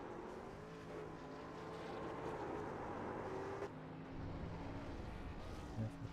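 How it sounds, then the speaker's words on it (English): A race car does burnouts at Daytona International Speedway in a racing video game, a continuous engine drone with tire noise holding steady at moderate distance and shifting slightly in pitch midway. "Still got somebody doing some burnouts below here."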